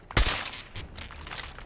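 Gunfire in the video game Fallout 4: one loud sharp shot near the start, followed by a decaying tail and scattered fainter game noise.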